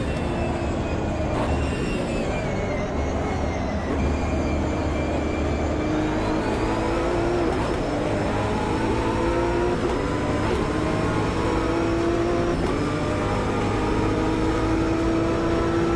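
Race car engine in the racing video game Project Motor Racing drones continuously and loudly, its pitch climbing and shifting as the car accelerates through gears, with no talk over it.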